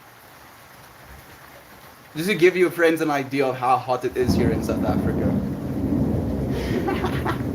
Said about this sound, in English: this little patio gets so hot that when it rains on it, it literally turns into steam